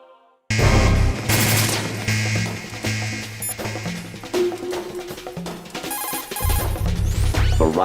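Rapid bursts of gunfire blast away at targets in a Metal Gear Solid 2: Sons of Liberty training exercise, loud and dense, mixed with crashes, ringing hits and a pulsing game score.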